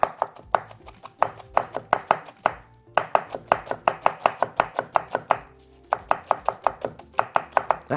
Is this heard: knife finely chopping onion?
yes